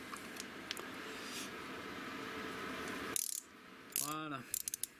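Screws on the cam chain tensioner of a Kawasaki ZX12R motorcycle engine being loosened with a socket tool; a few sharp ratchet clicks and metallic taps, close up, over a steady background hum with no talk.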